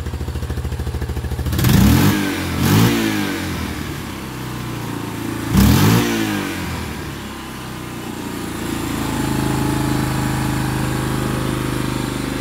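A Yamaha Big Bear 350 ATV engine runs at a raised idle on a weak battery during CDI and stator troubleshooting, with two sharp revs early on before settling into a steady, close, loud buzzing idle.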